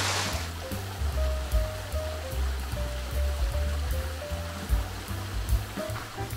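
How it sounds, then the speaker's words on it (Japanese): A waterfall in the Japanese Alps gives a steady rushing flow of water with a continuous hiss and low churning, moderately close, accompanied by a few faint tonal sounds and no talking. "こちら滝が流れてます"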